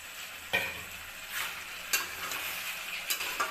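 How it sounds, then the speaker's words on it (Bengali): Boiled potatoes, slightly overcooked, stirred and fried in a pan with tomatoes for aloo dum, giving a steady soft sizzle broken by a few sharp scraping strokes of the spoon. "কিছুক্ষণ এটা একটু নাড়াবো"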